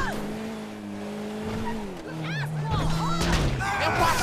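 Motorbike engine revving and tires squealing in the video game GTA 5, a droning engine note that shifts pitch, then rising whines and skids, close and loud, with voices talking over it.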